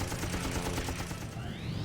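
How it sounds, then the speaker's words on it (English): Rapid machine gun fire rattles in a dense, fast burst from a fighter plane in a head-on WWII dogfight, loud and close, then a high whine of engine pitch rises near the end. "Instead, he'll charge him with machine guns blazing."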